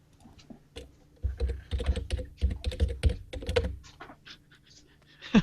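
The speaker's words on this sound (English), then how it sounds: "It's very satisfying typing." Computer keyboard typing in a hunt-and-peck style, heard close as bursts of uneven key clicks and thunks with short pauses between runs, fairly quiet overall.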